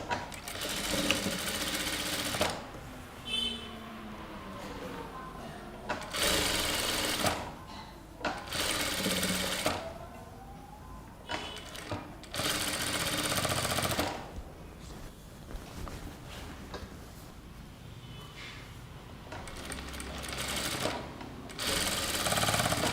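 Sewing machine stitching kurta sleeves, running in repeated loud bursts of steady whirring separated by short pauses, close up with no talking.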